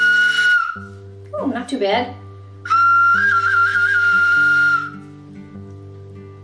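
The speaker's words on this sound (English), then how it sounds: "This is a Native American whistle. It's in the shape of an owl." A Native American owl-shaped clay whistle gives a short shrill tone, then a warbling trill, then a longer wavering whistle, with a voice speaking briefly in between.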